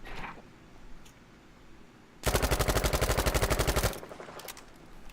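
A Thompson submachine gun fires a single rapid burst of roughly twenty evenly spaced, loud rounds on a Battlefield V shooting range, set against quiet ambient background before and after.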